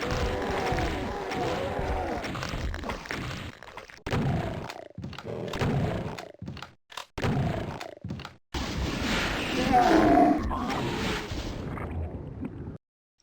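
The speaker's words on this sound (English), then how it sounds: "Doom sounds like this." Monster kill sounds from the video game Doom play as a run of guttural roars, grunts and wet thuds in quick bursts, broken by short silences, ending in a longer growling, gurgling death cry.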